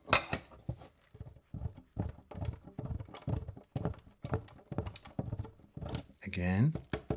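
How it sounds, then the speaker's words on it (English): Frozen butter scraped across a box grater straight into a flour mixture, a steady run of short raspy strokes repeating close by, with a voice talking over part of it. "Grate it directly into the flour mixture."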